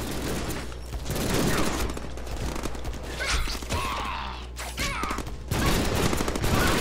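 Chrome-faced assault rifle enemies open fire in the Deadpool video game, loud rapid bursts of automatic gunfire with clattering mechanical impacts, continuous and close.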